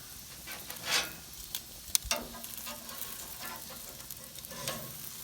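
Pork chop fat sizzling on a Weber grill, a quiet crackling hiss with a few sharp pops and tong clicks scattered over several seconds, close by and without talk.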